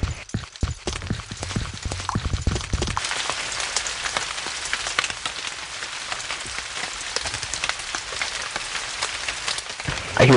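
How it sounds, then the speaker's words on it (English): Rain falls in a shooter video game as a steady patter of raindrops, alone and fairly loud, with a few clattering thuds at the start. "I hear raindrop."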